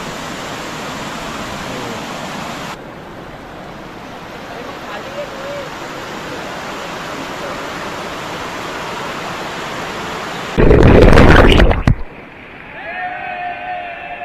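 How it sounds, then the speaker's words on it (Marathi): Aadrai waterfall in the Malshej Ghat jungle during monsoon, a steady broadband rush of falling water throughout, briefly covered by a loud burst of wind or handling noise near the end, with voices talking faintly at times. "आडराई वॉटरफॉल शेवटचं ठिकाण आलेलं आहे"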